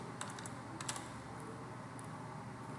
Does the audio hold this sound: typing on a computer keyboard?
yes